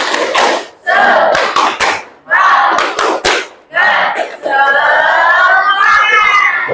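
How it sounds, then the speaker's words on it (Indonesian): A school class performs tepuk semangat, a rhythmic clapping chant, with loud shouted voices in bursts broken by sharp clap accents and short pauses, ending in a long sustained cheer. "Tepuk semangat."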